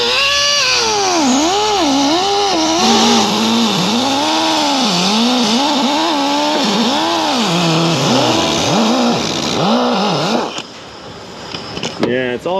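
A power tool, likely a rotary polisher, buffs contaminants off the aluminum surface of a Chevy Equinox 3.6L water pump, whining loudly with constantly shifting pitch as it loads and unloads, then cuts out near the end.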